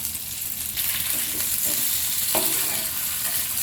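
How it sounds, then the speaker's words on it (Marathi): Lepo sole fish frying until crispy in oil in a pan over a low to medium flame, giving a steady, close, broadband sizzle that holds throughout with no voices. "दोन्ही साइडने छान क्रिस्पी लो टू मीडियम फ्लेमवर भाजून घ्यायचे फिश"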